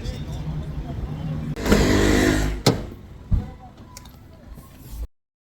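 A car arriving on a road to pick up passengers, its engine rumbling and swelling as it pulls up, followed by a couple of sharp thumps, heard close over steady background noise.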